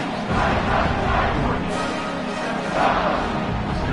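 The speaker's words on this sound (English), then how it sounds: "this crowd now ready to get behind them." A college football stadium crowd roars before a kickoff, a loud sustained mass cheer swelling in two waves over a broad din.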